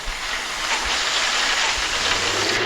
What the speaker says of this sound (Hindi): जैसे कि आप सब देख सकते हो बाहर बहुत तेज़ तेज़ की बारिश हो रही है